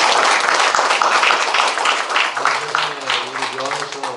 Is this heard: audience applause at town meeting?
yes